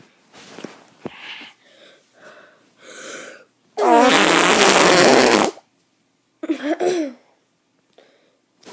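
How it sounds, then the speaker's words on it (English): A child blows hard against the fatty skin of a leg, producing long, loud, wet fart-like raspberries in a few bursts, the longest lasting over a second, close up, with short breathy sounds between. "Let's get to the leg farts now."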